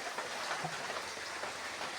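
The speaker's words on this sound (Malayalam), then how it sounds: "നല്ല മഴ പെയ്യുന്നുണ്ട്" Steady, dense hiss of rain falling without a break, like a constant downpour on surfaces.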